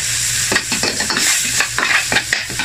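Chicken liver adobo sizzles and fries in a pan, with repeated stirring scrapes and clinks over a steady close hiss; no one speaks.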